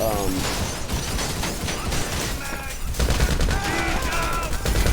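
Shootout in a video game set on a mission at an auto shop depository, rapid bursts of gunfire crackling over a dense background, with a short pause before another heavy volley.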